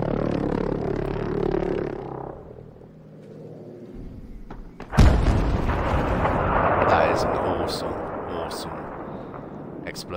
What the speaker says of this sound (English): Explosion off that.